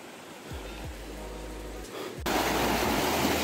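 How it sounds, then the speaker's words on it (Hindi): The Bhaisa-odar waterfall sends up a steady rushing roar of falling water with a few low thumps, and the roar swells noticeably louder partway through. "झरना आगे है, झरने इधर से नीचे जाओ तो झरना पड़ेगा।"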